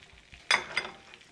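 Shallots and garlic hit hot oil for shrimp scampi, giving a sudden loud sizzle burst halfway through that then settles into a steady crackling fry, with a brief clink of stirring.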